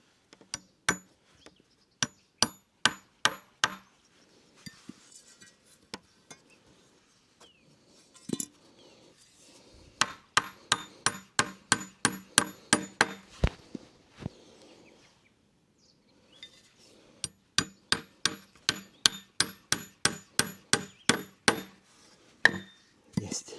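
A hammer strikes wood in bursts of sharp, rhythmic blows, several runs of quick repeated knocks separated by pauses while a small wooden corner is built outdoors.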